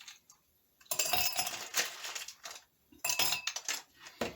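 Ice cubes clinking and rattling against a wine glass being chilled before pouring rosé, a few bright bursts of clatter with short pauses between, close and fairly loud with no talking.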